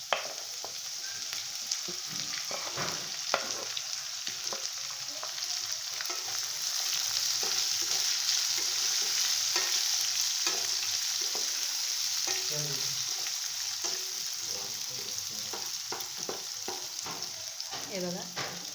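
Green chilies and spring onion sizzle steadily in hot oil on a gas stove for khandeshi khichdi, a continuous bright frying hiss with occasional stirring scrapes, close and alone.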